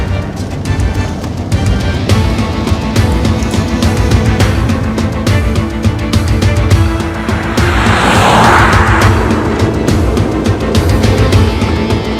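Car driving close behind on a road, a continuous loud engine and road rumble with a brief hissing swell partway through, no talk over it.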